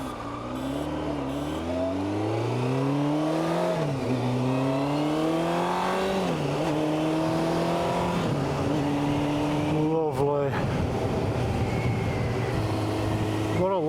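Engine of a 1990 Honda CBR600F motorcycle on a ride in South Yorkshire, a loud, steady whine that climbs in pitch through the revs and drops at each gear change, repeated several times, with wind noise throughout.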